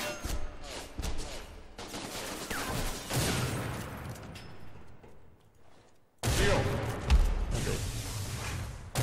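Dense gunfire bursts from the LoS video game, clattering rapidly and loudly throughout, with a short silent gap before a heavier renewed volley.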